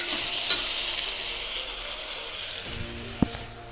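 Brinjal frying in oil with cumin and mustard seeds: a steady, close sizzle that runs throughout, with a sharp clink of stirring near the end and no voices.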